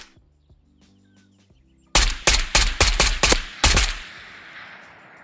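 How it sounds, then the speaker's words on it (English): A rapid series of about seven loud gunshots in the Ghosts of Tabor shooter game, fired in quick close bursts after a quiet stretch of faint ambient tones, with echoing decay at the end. "Junkyard could hear those shots and try to get us"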